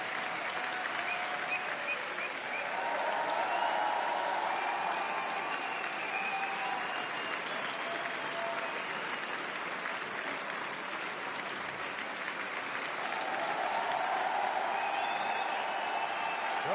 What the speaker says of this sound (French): Faites un tonnerre d'applaudissements pour monsieur Fabrice Eboué.